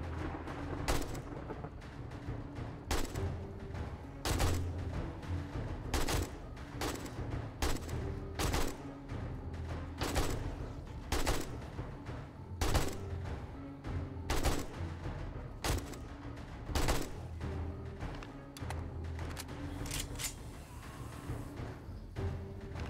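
AK rifle fire in the game 7 Days to Die during a horde night base defense, rapid sharp bursts and single shots repeating in quick bursts over a constant low rumble, loud and close with no talking.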